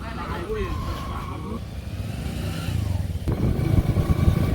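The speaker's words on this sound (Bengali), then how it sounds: "সামনে যে মোটর সাইকেল আইতেছে" A motorcycle comes up a rainy village road, its engine drone swelling louder and closer over the last seconds while people talk nearby.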